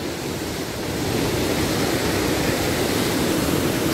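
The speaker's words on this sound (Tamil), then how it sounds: "இங்கே பாருங்களேன் தண்ணி எப்படி பொங்குதுன்னு." Loud, constant roar of rushing, churning water at Eachambadi Dam, filling the space, steady and broadband with no pauses.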